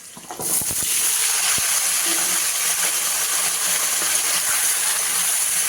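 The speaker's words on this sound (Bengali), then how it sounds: "এবার এই সবজিগুলো একটু ভেজে নেব" Vegetables with dried red chillies, five-spice seeds and slit green chillies hit hot oil in a home kitchen, a sudden clatter followed by loud, steady sizzling and crackling frying.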